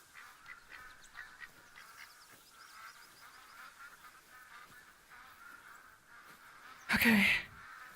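Birds call in the hunting game theHunter: Call of the Wild: faint, scattered chirps and honks over a quiet outdoor bed, then one loud, close goose-like honk near the end.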